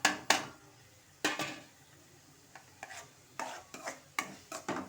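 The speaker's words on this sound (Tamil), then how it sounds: "இதையும் நல்லா நம்ம வதக்கிக்கலாம்." A spoon stirs onion and tomato with turmeric and coriander powder in a pan for soya chunk kurma, giving repeated sharp scraping strokes at irregular intervals over a faint background sizzle.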